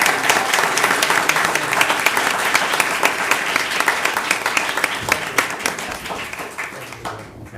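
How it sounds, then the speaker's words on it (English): A hall audience at a mayor and council meeting applauds a retiree, dense sustained clapping with some sharper individual claps, slowly thinning toward the end. "Another round of applause for Junior."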